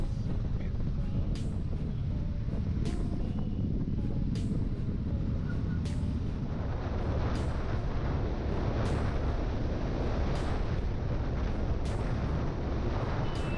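Royal Enfield Interceptor 650 twin-cylinder motorcycle with dual exhaust rumbling steadily and loudly while riding on the road, its deep continuous drone mixed with heavy wind buffeting throughout.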